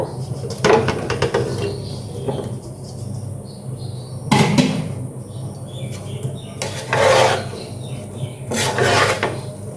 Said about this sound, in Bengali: তো দেখো এবার আমি আমগুলো দিয়ে দিব।